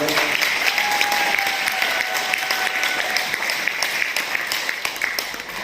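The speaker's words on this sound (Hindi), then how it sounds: "मेरे खास मित्र मेरे अजीज सचिन शर्मा जी के लिए एक बार जोरदार तालियां हो" Loud, sustained applause from an audience at an RTC celebration event in Hisar, dense clapping filling the room for several seconds with a faint tonal whistle running through it.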